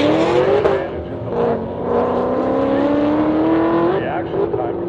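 A 2020 Shelby GT500 Mustang launches down a quarter-mile drag strip, its engine note rising in a loud, steady climb through the gears with brief tire spin, while people talk over it.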